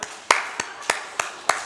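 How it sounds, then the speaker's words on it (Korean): Six sharp, evenly spaced claps ring out in a room during a church sermon, each a crisp single slap with a short fade. "박수."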